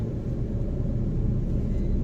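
A car engine runs during a driving lesson as the learner adds a little speed, heard as a steady, fairly loud low rumble with no strong rise in pitch.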